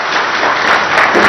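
A loud, dense burst of audience applause at a factory inauguration ceremony, continuous clapping from a crowd filling the whole moment.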